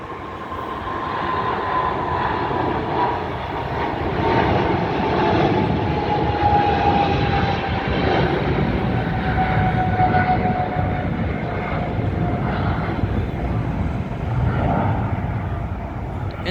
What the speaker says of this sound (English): Air China 787 is taking off.